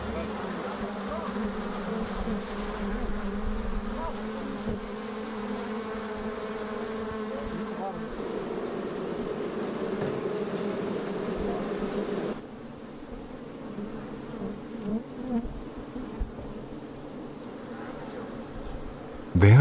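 Bees kept by nomadic beekeepers on the Tibetan plateau hum in a steady, continuous drone that fills the clip, softening somewhat after the midpoint, with no talking.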